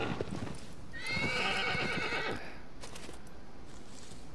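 A horse in Shadow of the Colossus gives a loud, drawn-out whinny over steady clip-clopping hooves, then the hoofbeats carry on alone.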